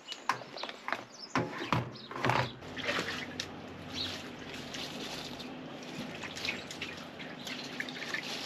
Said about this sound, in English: Basically you just keep rinsing it out until the water comes out clear and there's no brown